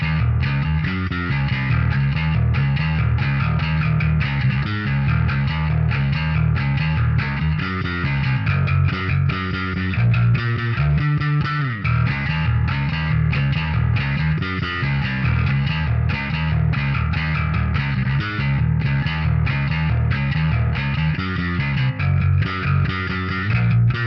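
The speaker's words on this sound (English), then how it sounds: "Now, it's time to get our distortion on with the RAT." Heavily distorted bass guitar riffs played through a Pro Co RAT distortion pedal, continuous and loud, with a thick, fuzzy, gritty tone and steady rhythmic attack throughout.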